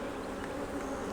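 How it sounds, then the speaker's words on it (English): A dense, steady hum of many honeybees buzzing inside a hive, close and continuous. "There's still so many bees in this hive"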